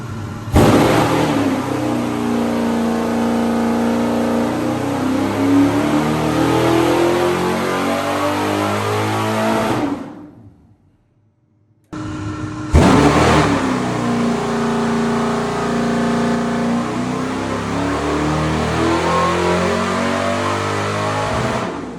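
A loud Ford 7.3 Godzilla V8 engine with no intake manifold roars on a dyno under sustained load for about ten seconds, cuts out briefly, then roars again at high rpm, very close.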